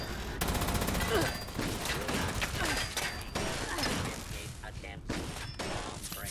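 Dense gunfire and explosive bursts in Fallout 76 during a Vault 79 heist against raiders, with repeated shots and blasts filling the scene and voices talking over it.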